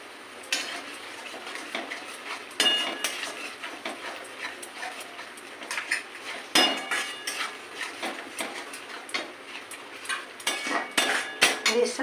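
Spoon stirring in a pan while cooking potol chingri (pointed gourd with prawns), with repeated clinks and scrapes of metal against the pan, fairly close, in irregular bursts with no talk.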